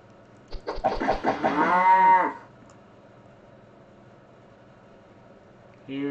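Cattle mooing in a Unity video game: a short burst of clicks leads into one long, loud, drawn-out moo that fades, then a quiet stretch before another moo begins at the end.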